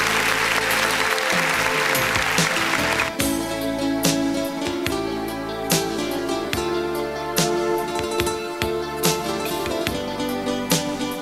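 Sustained applause from a crowd at a Bulgarian baby celebration gathering, steady clapping filling the room alongside loud background music.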